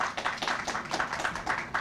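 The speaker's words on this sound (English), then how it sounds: "give them a round of applause" Audience applause at a county announcement of a food insecurity grant program: a steady patter of many hands clapping, fairly close, continuing evenly with no talk over it.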